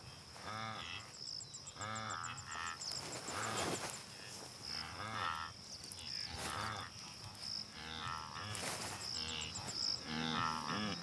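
A wildebeest herd calls across open, dry plains, with repeated low moaning grunts that overlap from several animals at middle distance. Insects chirp steadily underneath, and no one speaks.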